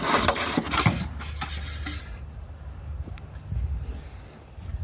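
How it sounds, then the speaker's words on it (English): A handsaw cuts wood on a farm: a loud, rough rasping passage gives way to quieter scraping and scattered knocks, up close. "using a handsaw or two hand saws, as the case might be"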